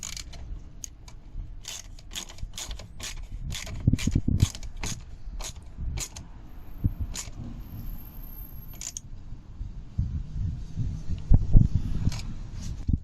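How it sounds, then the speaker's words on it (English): A spanner tightens a nut while fitting a window regulator on a Smart car: a string of sharp metallic clicks and ratchet-like ticks in a loose rhythm, then heavier clunks and scraping, close by and with no talking. "just get a spanner on the other end to hold the nut, and then just start tightening it down"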